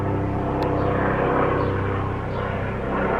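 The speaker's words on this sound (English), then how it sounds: "That plane sounds so peaceful, doesn't it?" An airplane passes overhead outdoors as a steady, loud, broad engine drone and rumble that fills the whole stretch with no talking.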